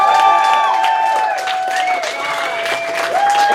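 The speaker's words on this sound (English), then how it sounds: "let's give a big round of applause." A studio audience at a live evening show gives sustained applause, with clapping and cheering going on the whole time beneath a held, sung or whistled tone.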